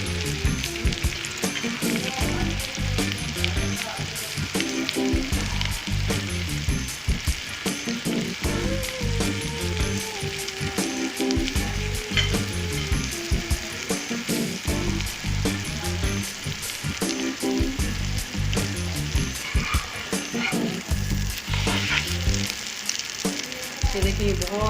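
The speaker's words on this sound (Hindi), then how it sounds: "एक तरफ से फ्राई कर लिया इसको।" An egg sandwich fries in a pan with a steady, loud sizzle that runs the whole time, with bursts of crackling and the occasional stir. No one speaks.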